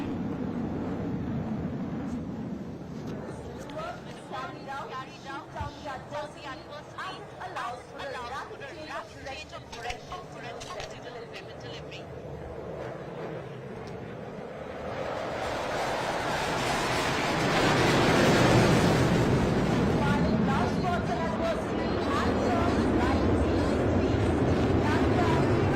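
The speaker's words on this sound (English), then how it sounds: "तेजस की उड़ान और उसकी क्षमता का प्रदर्शन यहां सुखना लेक के ठीक ऊपर" A Tejas light combat aircraft flying over Sukhna Lake during an Indian Air Force Day flypast, its jet roar building from a distance to a loud sustained rush overhead, with commentary and crowd chatter throughout.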